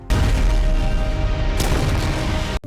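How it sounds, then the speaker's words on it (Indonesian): A film explosion as gasoline is set alight with a stun gun: a loud, sustained low roar and rumble lasting over two seconds, with a sharper crackling burst partway through before it cuts off. "Dengan ledakan tersebut,"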